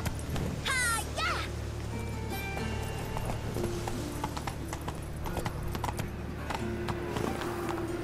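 Roach the horse gallops in The Witcher 3 with a steady, close clip-clop of hooves and a brief whinny. A voice shouts and calls over the hoofbeats.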